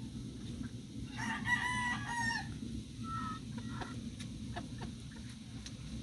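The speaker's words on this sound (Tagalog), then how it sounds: "Bagong breed na manok." Free-range brown egg layer chickens cluck and a rooster crows loudly nearby, the long crow rising early on, followed by scattered clucks and short calls over a faint outdoor background.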